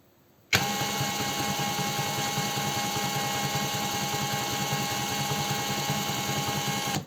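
A DRIVAK ED002 cordless screwdriver spins at top speed, a steady loud motor whine with a fine buzzing rattle that starts abruptly and holds evenly for several seconds.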